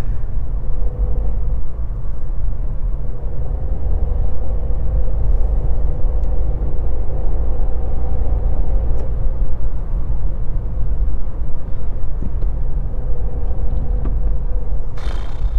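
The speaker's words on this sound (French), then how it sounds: "Oh, elle avance super la voiture quand même." A Skoda Fabia Monte Carlo driven briskly gives a steady, low engine and road rumble heard from inside the cabin, continuous and without talk.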